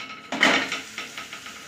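Ragi adai flipped over on a hot pan in a home kitchen, a clattering scrape of spatula on metal followed by several lighter, rhythmic taps, close and fairly quiet with no talking.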